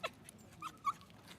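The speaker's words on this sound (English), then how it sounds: "There you go, that's my dog." A cavoodle dog at Bondi Beach gives faint, brief whimpering yips, a few soft high squeaks spread over a moment of low background noise.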